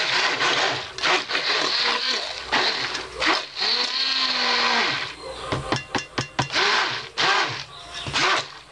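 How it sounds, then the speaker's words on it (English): A powerful stick blender buzzes loudly and continuously as it mixes mild clay into soap-making oils, its whirring pitch wavering and stuttering as it is pulsed and moved through the mixture. "I think the stick blender is so powerful, it frightens me."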